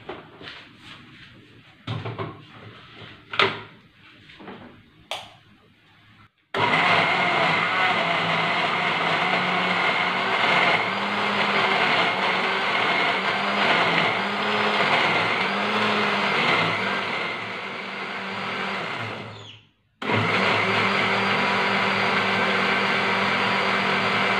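A kitchen blender grinds coriander seeds, tomato and spices with water: a loud, steady whirring motor that starts abruptly after a few light clatters, runs long, cuts out briefly, then resumes.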